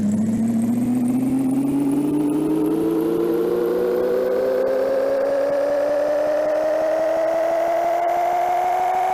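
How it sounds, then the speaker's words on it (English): A truck engine in the Big Rigs video game whines as it speeds up in reverse, one steady climbing drone that keeps rising in pitch, loud and alone. "How fast can you go in reverse?"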